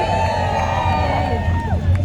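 A dense crowd at the Crop Over festival parade in Barbados cheers and whoops continuously, a loud sustained roar of voices with shouts rising over it throughout.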